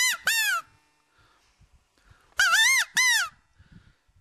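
Homemade rubber band quail call being blown: two harsh, buzzy squawks, a pause, then two more loud calls, close and raspy with faint handling noise between.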